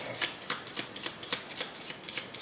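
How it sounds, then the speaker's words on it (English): A deck of tarot oracle cards being shuffled close by, a quick rhythmic series of soft riffling flutters with no voices. "for the Archetypes card, we're going to go ahead and shuffle that one."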